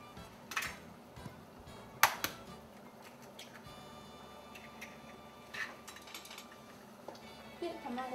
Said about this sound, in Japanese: 卵は最初に卵黄を黄身のところを潰して優しく混ぜて、混ぜすぎないようにしましょう